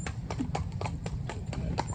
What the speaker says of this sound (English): obviously she's doing a trot up here, but I always bring them back to a walk